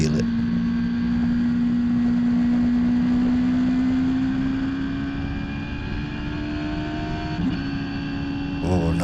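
Radical SR3 race car engine revving hard on track during a track day at The Bend, a steady loud high-rpm drone that climbs slowly in pitch, close and continuous throughout.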